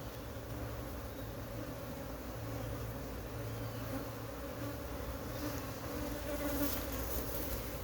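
A colony of Africanized honeybees swarms in the wild, a dense, steady buzz that fills the whole stretch at close range with no talk over it.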